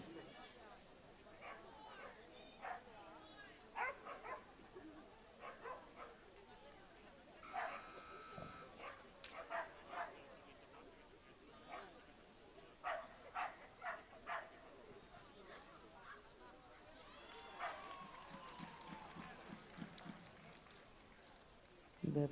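At a dog agility Gamblers event, a border collie running the course gives repeated sharp barks and yips at a distance, mixed with crowd noise and a commentator talking.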